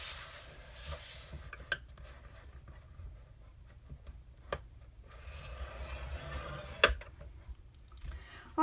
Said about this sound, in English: we're simply going to score it at 3/4 of an inch on both sides.